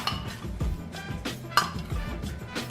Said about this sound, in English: Now we're gonna add the crab meat. Then just kind of play it, mix it around.